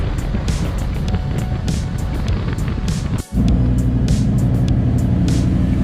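Motorcycle ridden at night on Phuket island, Thailand: a loud, steady engine drone with rushing wind, broken by one brief dip in sound midway before resuming, close and continuous.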